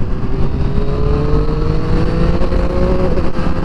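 A Triumph Street Triple RS motorcycle accelerates to overtake, its engine note rising steadily under loud wind roar from the rider's position, close and continuous without speech.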